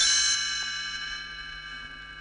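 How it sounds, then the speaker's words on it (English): A bright chime rings once and slowly fades away, its tones lingering alone in quiet. "You will know it is time to turn the page when you hear the chimes ring like this."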